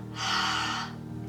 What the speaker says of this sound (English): So Ujjayi breath are sometimes called restriction or resistance breathing.